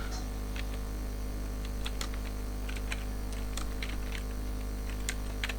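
Light clicking keystrokes on a computer keyboard come in short irregular bursts over a low constant hum, fairly quiet and close.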